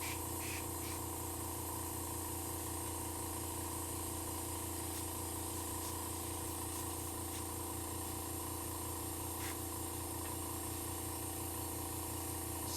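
Airbrush spraying while painting a miniature, a steady continuous hiss with a low compressor hum running unbroken throughout, close and fairly loud, no talking.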